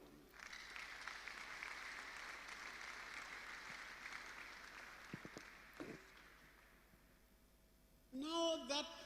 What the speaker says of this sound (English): give a round of applause to them.